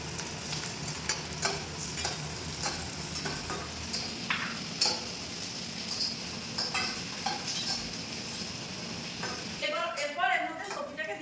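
Ginger-garlic paste with panch phoron sizzles and fries in a pan while being stirred, a steady crackling hiss with scraping clicks, under a person talking.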